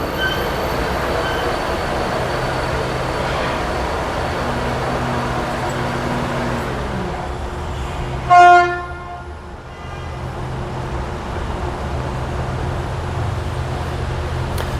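A metro train runs above ground with a steady rumble of wheels on rails, broken midway by a brief loud horn blast followed by a short dip in the noise, all near and continuous.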